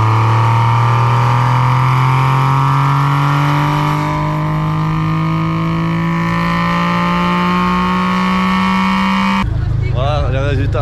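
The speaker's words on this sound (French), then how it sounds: "on a passé la voiture au banc" A Porsche GT3 engine on a dyno sweeps steadily upward in a long, loud, continuous rev at full throttle, then cuts off abruptly and falls back with crackling.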